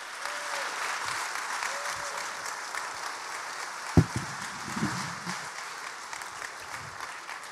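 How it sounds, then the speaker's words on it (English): A studio audience claps steadily to welcome Roman Kemp onstage, a continuous wash of applause with one sharp thump partway through. "Give him a round of applause."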